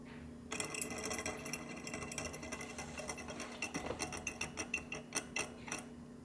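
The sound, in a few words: battery-powered perpetual motion machine toy from China running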